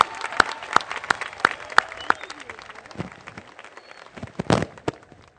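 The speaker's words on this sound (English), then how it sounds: "Please give them another round of applause." A crowd applauds at a college commencement ceremony with scattered sharp claps and a few loud pops standing out, the clapping swelling briefly near the end before fading.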